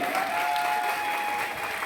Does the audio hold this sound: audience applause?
yes